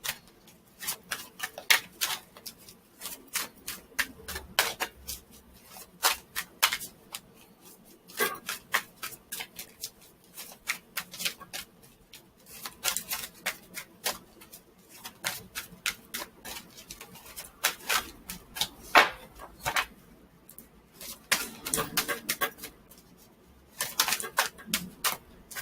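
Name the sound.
tarot cards being shuffled and pulled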